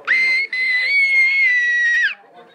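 A boy lets out a high, shrill, sustained scream indoors at night, very loud and close, with a brief break near the start before it trails off.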